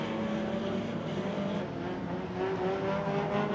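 Several race cars run side by side around a track between turns, a sustained loud engine roar with shifting pitch and no breaks, heard without voices.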